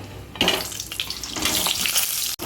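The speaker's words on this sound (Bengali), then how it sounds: "চিনিটা তেলের সাথে গুলে যাওয়ার পরে দিয়ে দিলাম আলু।" Potato pieces frying in oil with dissolved sugar for a chicken korma, a steady close hiss and crackle with a louder burst as they hit the pan, no voices.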